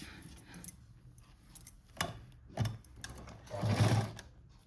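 A sewing machine stitches a patchwork design cut from a saree border, running in short bursts with quiet gaps, the longest and loudest run coming near the end.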